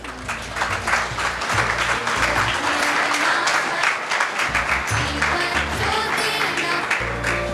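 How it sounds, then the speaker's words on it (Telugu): Audience at a formal event hall breaking into sustained applause, a dense wash of many hands clapping continuously for several seconds, moderately loud with a low hum underneath. "గట్టిగా కరతాళ ధ్వనులండి, చప్పట్లు కొట్టాలి."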